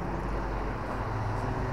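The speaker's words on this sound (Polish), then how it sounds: "Jeżdżą tutaj samochody." Street traffic rumbles past at a used car lot in Germany, a steady low wash of passing cars heard at moderate distance with no distinct individual vehicles.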